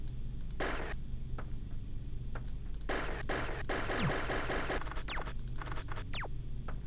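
Bursts of gunfire from an Amiga video game, rapid rattling shots in several short volleys mixed with descending electronic whistles over a steady synthetic background drone.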